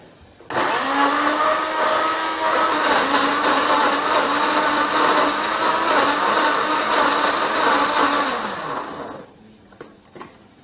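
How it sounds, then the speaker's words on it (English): A food processor blitzing the ingredients for chicken Caesar wraps: a loud, close motor whir starts abruptly, runs steadily for about eight seconds, then winds down, followed by a few faint clicks. "combine everything in your bowl, in your processor. Just give that a nice lock and proceed to blitz that for a few seconds"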